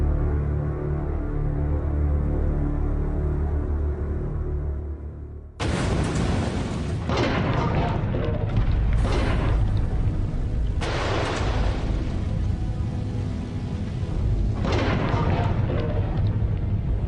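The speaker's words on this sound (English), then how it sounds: "Wyatt retreated to a safe distance to watch the explosion on a monitor." A low rumbling drone gives way to a sudden loud blast, followed by a series of heavy booming bursts and rumbles.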